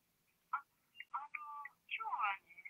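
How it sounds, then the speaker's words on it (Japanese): A telephone line plays a series of electronic tones and warbles while a call is put through to a hospital office, the chirps coming in short uneven bursts with one longer steady tone in the middle, heard alone with no talk. "理事長の 古城基久さんで、今おつなぎできます"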